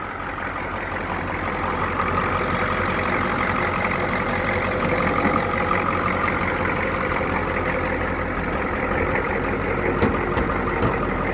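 An old second-generation Ford truck's engine runs steadily at idle, a continuous close diesel-like rumble with faint ticking, holding even and loud throughout without any voices.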